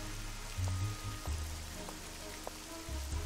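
Steady rain in the Nancy Drew: Legend of the Crystal Skull game, falling outside a mausoleum as a constant soft hiss with faint scattered drips and low rumbles, heard alone without talk.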